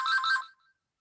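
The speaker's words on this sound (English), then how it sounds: "I have a phone ringing that should not be" A telephone ringtone chirps in a quick repeated pattern for about half a second during an online Medicare presentation, then cuts off, leaving silence.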